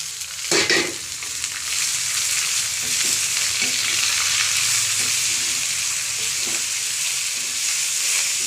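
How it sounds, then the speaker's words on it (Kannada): Curry leaves, chilies, turmeric, salt and coriander leaves fry in hot oil with a loud, continuous sizzle. An early clatter and a few faint scrapes sit under the steady hiss, with no talking. "ಹಾಕ್ಬಿಟ್ಟು 1-2 ನಿಮಿಷ ಫ್ರೈ ಮಾಡಿ."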